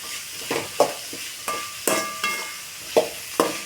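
Soft sizzling of vegetables for veg fried rice in a pan with a spatula scraping and stirring in repeated strokes, close up and fairly quiet.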